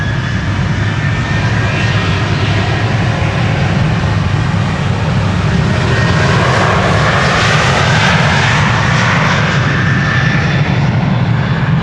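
A KLM jet airliner in its 100-years livery on runway 36 left at Amsterdam Schiphol: a loud, continuous engine roar with a broad rushing hiss, steady throughout, heard close from outside.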